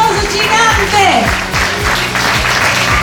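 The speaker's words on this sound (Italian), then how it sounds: "Applauso gigante." Applause at an evening beauty pageant in Riviera del Brenta, a steady wash of clapping from a crowd under a loud, booming music beat, with some speech mixed in.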